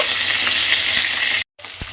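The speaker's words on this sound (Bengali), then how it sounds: "দিয়ে আলুটাকে একটু ভেজে নেব।" Diced potatoes fry loudly in a pan, a dense, close hiss that runs without a break, cuts out for a moment, then comes back with a light knock.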